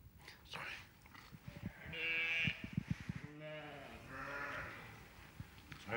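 Sheep in snow giving several drawn-out bleats, some near and some farther off, while people speak quietly in between.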